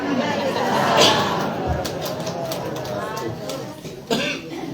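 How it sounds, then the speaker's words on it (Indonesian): A cough or two stands out over a murmuring crowd with chatter in the background, fairly loud and close. "Batuk langsung."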